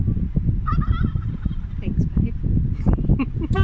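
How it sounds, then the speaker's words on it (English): Three wild turkeys gobble near Kairakau Beach, short rapid warbling calls in a few bursts at moderate distance, heard beneath nearby talking. "We just saw these 3 wild turkeys"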